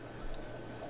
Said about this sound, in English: Let's see how the initial pour looks.